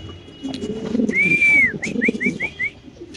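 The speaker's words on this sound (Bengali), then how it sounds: "এই যে নর দেখেন, নরের ডাক মাশাআল্লাহ দেখেন।" A male Lahori pigeon, a cream-barred bird in a loft, gives a rising whistled coo followed by a quick series of five short repeated notes, close and clear over low background murmur.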